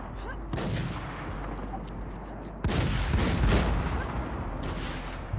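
Gunfire in the zombie survival shooter NewZ, repeated rapid shots and bursts from several weapons, loud and close, with a heavier volley midway.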